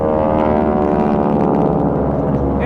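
A propeller warplane, a Zero, roars past in a Tora Tora Tora demonstration at the MCAS Yuma airshow, its loud, steady engine drone filling the air close by with no talk over it.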